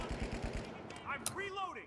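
Gunfire in The Finals, a first-person shooter: a quick burst of rapid shots in the first half-second, followed by game effects and a voice-like sweep, all fairly faint.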